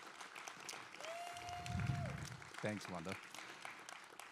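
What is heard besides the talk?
applause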